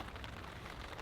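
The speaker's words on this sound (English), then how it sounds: "apologies for the rain noise, guys" Steady rain patters on a taut surface nearby, a dense, even hiss with faint drop taps and no voices.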